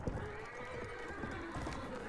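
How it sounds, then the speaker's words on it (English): Horse in a video game neighing and galloping, a whinny over busy clip-clop hoofbeats and game background noise, fairly faint and brief, with no talk over it. "Got a horse."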